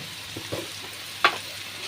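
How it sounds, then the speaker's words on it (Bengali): Pointed gourd paste being stirred and fried in a pan, a soft low sizzle punctuated by a few brief scraping clicks of the spoon, one sharper knock near the end. "এবার আমি পটল বাটাটা দিয়ে দেবো, দিয়ে এটা যতক্ষণ না জলটা শুকিয়ে যাবে আমি ততক্ষণ এটাকে নাড়বো"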